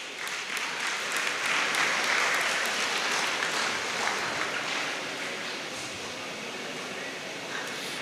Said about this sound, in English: Let's applaud Mohammad Suhail of PCMC for his outstanding performance